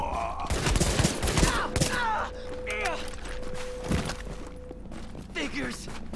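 Gunfire in the video game Tom Clancy's The Division, bursts of shots and impacts early on, then sparser cracks, under an excited player's shouting and game sounds.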